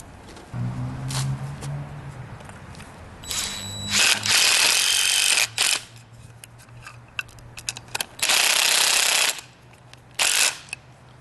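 A power drill drives a lag bolt to mount a Tarp Buddy tarp anchor, whirring in two long bursts with shorter trigger pulls between, close and loud with metallic clinks.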